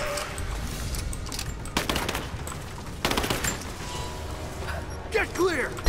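Rapid gunfire bursts and single shots in Rise of the Tomb Raider, loud and close, mixed with game sounds and a voice talking over the action.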